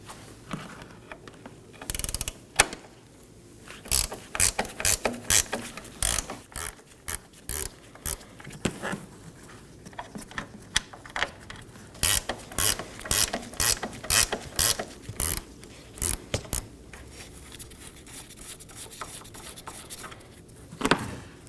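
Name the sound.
wrench ratcheting out strut mount bolts on Nissan Maxima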